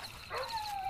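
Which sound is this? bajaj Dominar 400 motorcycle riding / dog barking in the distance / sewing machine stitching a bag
dog barking in the distance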